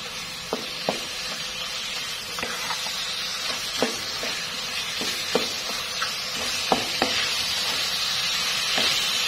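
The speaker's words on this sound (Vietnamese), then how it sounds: "Mình sẽ xào cho chín thịt là được rồi." Meat seasoned with five-spice powder stir-fries in a pan for liver pâté. A loud, steady sizzle continues throughout, punctuated by occasional spatula taps and scrapes, up close with no talking.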